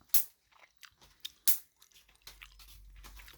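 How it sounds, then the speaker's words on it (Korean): A father chews a mouthful of dumplings (mandu) up close, with two sharp crunchy bites followed by quieter, irregular wet chewing and a faint hum underneath. "아빠 만두 왜 이렇게 많이 먹어"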